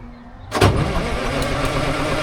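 A 1940s crane engine that sat unused for over ten years cranks and catches, a sudden burst then settling into a steady rough idle, close and loud, with no talking.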